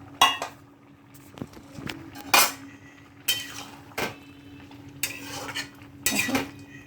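Pointed gourd pieces frying in a kadai over low flame, with a spoon scraping and clinking against the pan in irregular bursts over a faint sizzle, close by.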